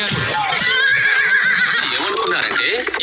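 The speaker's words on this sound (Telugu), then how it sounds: "ఏమనుకున్నారంటే ఈ గుర్రం చేసే శబ్దం చాలా అపాయకరమైనదని." A horse neighs in a loud, shrill whinny, mixed with a narrating voice and other speech in an animated village story.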